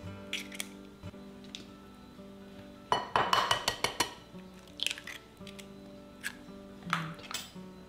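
Two eggs beaten in a bowl for schnitzel breading, a burst of rapid clinking whisk strokes against the bowl after scattered taps, close and fairly quiet, with no talk.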